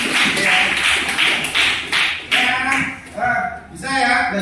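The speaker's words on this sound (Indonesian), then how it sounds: "Beri tepuk tangan buat teman kalian" A class of students claps for a classmate in a sustained burst of overlapping handclaps that rises and falls in waves, with voices mixed in throughout.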